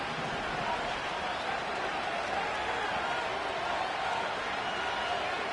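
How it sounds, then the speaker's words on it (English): Football stadium crowd roaring before a third-down play, a broad steady wash of noise that stays distant and fairly faint without clear swells. "What about this crowd getting even louder before 3rd and 10?"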